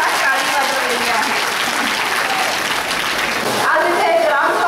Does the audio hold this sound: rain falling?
yes